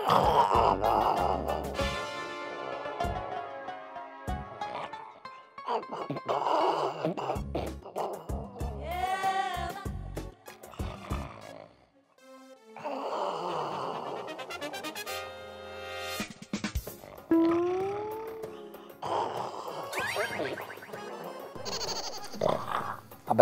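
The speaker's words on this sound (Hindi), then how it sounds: "अब कैसे जानवरों की तरह खर्राटे ले रहा है?" Loud, animal-like snoring from a man in a Pakistani TV comedy drama comes in rough, rasping waves with pauses, with some voices mixed in.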